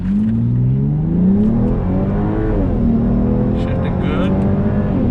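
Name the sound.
Volvo S60 T6 with Elevate intake manifold accelerating, shifting gears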